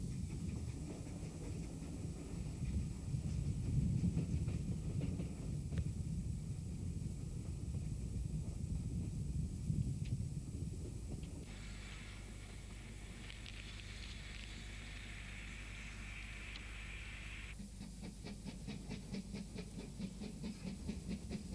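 Preserved Maunsell U-class steam locomotive number 1618, built 1928, working on a preserved railway line, with a steady hiss and rumble that shifts into a sustained steam release and then a rapid run of exhaust beats near the end.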